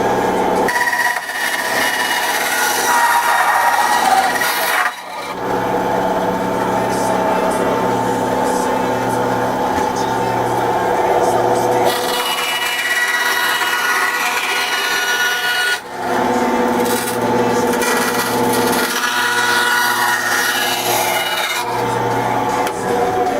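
A bandsaw cuts through a Kydex Glock holster, a steady loud whirring rasp that continues throughout, with a few brief dips as the plastic is repositioned.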